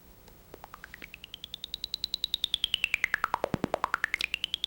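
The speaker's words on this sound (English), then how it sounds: "That's essentially our impulse through the biquad." Impulse train fed through a sweeping biquad filter in the ChucK music language produces a steady series of sharp clicks that speed up, with a pitched resonance gliding up, down and back up again, clear and fairly quiet.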